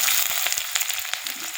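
Chopped onion hits hot mustard oil in a heated kadai and fries with a dense, steady crackling sizzle, close and fairly loud, with a few sharper pops and no talking.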